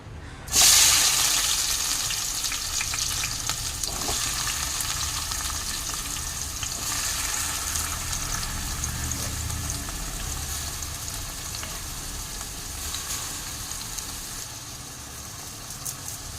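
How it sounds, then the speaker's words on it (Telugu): Onions drop into hot oil with a sudden loud burst, then keep up a dense, steady sizzle and crackle close by for the rest of the stretch, with no voices. "ఉల్లిపాయలు ఫ్రై అవుతూ ఉంటాయి వేసేసి ఆయిల్లో వెళ్దాం అనమాట"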